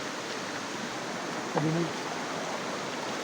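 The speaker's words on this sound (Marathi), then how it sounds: "खाली आलो आता नदीत, पाहू शकताय" A river flows with a steady, close broadband rush of water throughout, and a brief voice briefly rises above it.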